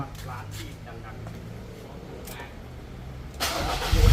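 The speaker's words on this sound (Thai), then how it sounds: "อ่าตอนนี้เครื่องยนต์สตาร์ตติดขึ้นมาเรียบร้อยนะฮะ" A Ford Ranger pickup engine with a faulty EGR system cranks over a low rumbling background, then catches and roars louder near the end as it starts.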